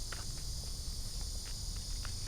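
Insects trill steadily as a high, continuous outdoor drone, with faint, brief chirps scattered through it and no talking.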